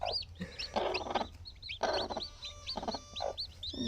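Native country hens cluck in short, repeated bursts, fairly close, with no talk over them and a low steady hum underneath.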